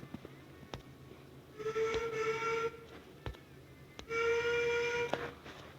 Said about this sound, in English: there's the long whistle and the short whistle on some engines